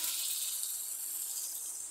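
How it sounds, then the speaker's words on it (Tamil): Water pouring into a pan of chicken gravy for Tamil chicken kuzhambu, a steady, faint hissing gush that runs evenly for the whole moment with no other sound. "கிரேவிக்கு தேவையான அளவு தண்ணி சேர்த்துக்கோங்க."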